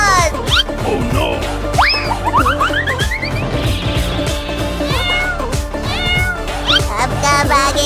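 A cartoon cat meows repeatedly in rising, bendy calls over busy, loud background music, with springy cartoon sound effects mixed in throughout.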